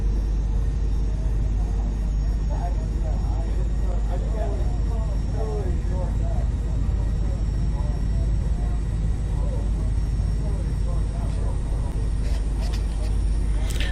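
A Boeing 767 rolls out on the runway after landing in X-Plane 11, its steady loud roar and rumble of engines and wheels filling the cabin as brakes slow the jet, with faint voices murmuring underneath.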